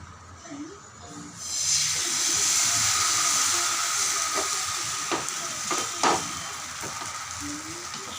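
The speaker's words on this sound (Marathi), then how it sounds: "आता हा तवा आपला गरम झालेला आहे व्यवस्थित आता बघा मी टाकल्यावर कसा आवाज येतो" Ghavne batter hits a hot griddle and a loud, steady sizzle rises suddenly and keeps hissing, with a few soft clicks and taps.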